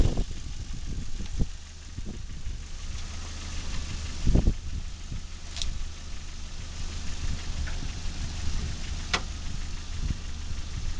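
A Chevrolet Cavalier engine idles steadily at a low, even rumble, with faint ticking and a couple of brief knocks or clicks nearby; no voices.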